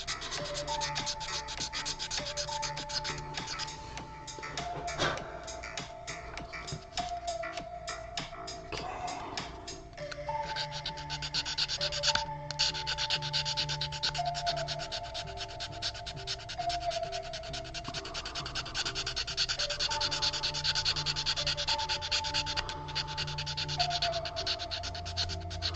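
A piece of an Elden Ring Godfrey prop is hand sanded with steady, continuous scratchy rubbing strokes, close and moderately quiet, with a faint tonal hum in the background.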